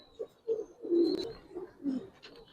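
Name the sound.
Giribaz pigeons cooing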